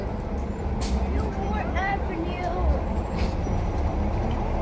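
A local city bus with air brakes idles and rumbles nearby amid steady street traffic noise, with faint brake squeals and short hisses partway through, and someone speaking over the scene.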